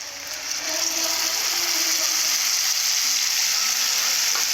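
Spice paste of turmeric, salt and chilli frying in oil for a Malabar spinach and meat curry, a loud close sizzle that swells at the start and then hisses steadily.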